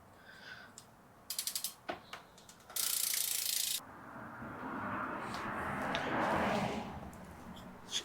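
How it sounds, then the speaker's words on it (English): Ratchet wrench cranked backwards during a BMX bike build, heard as short clicking bursts and a sharp metallic rasp, followed by fainter rubbing and handling noise, close by and quiet. "if you crank it backwards, while you hold the wrench still, it'll do it."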